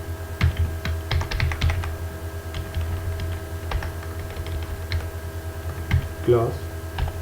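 Fingers type PHP code on a computer keyboard in quick irregular bursts of close clicks, with brief pauses between runs; someone talks softly in Hindi under the typing near the end.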